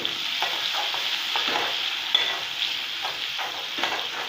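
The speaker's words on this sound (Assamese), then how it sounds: "মাছ ভজা তেলতে আমি পিঁয়াজখিনি ভাজিছোঁ" Onions sizzle and fry in oil left from frying fish, a steady close crackle with occasional stirring scrapes and no talking.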